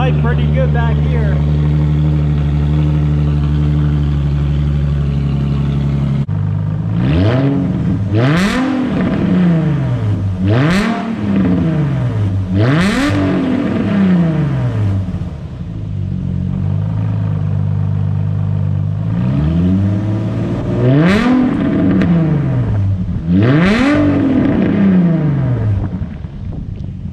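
A straight-piped Infiniti G35 idles with a loud, rumbling exhaust drone, then gets blipped repeatedly in a series of sharp revs that rise and fall, about seven in all, close and raw with no talking.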